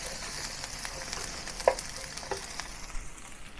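Shrimp heads stir-frying in a clay pot give a low, steady sizzle, with a brief louder clack of the spatula partway through and faint scraping taps after it.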